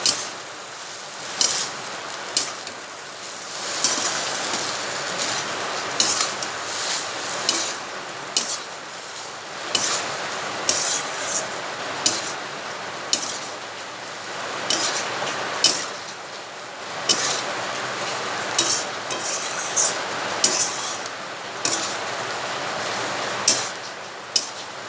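Cold leftover rice bhujia with turmeric and tomato sauce being fried and stirred in a pan, a spatula scraping and clinking against the metal in a steady repeating rhythm over a soft, continuous sizzle, close and fairly loud.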